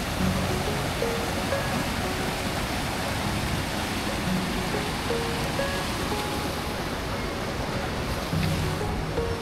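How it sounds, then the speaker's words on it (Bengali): The Parvati river in Kasol rushes past in a steady, loud, broadband roar of flowing mountain water, heard up close and unbroken throughout, with faint bird calls here and there. "পার্বতী নদী জল"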